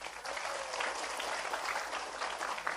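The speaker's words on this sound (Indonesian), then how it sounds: "Tepuk tangan dulu dong." A crowd at an evening religious study gathering after tarawih prayers in Cimanggu claps together, a dense continuous applause that stays fairly even with no speech over it.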